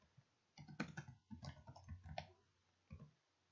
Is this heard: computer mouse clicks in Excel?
yes